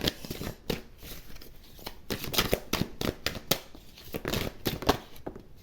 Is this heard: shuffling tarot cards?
yes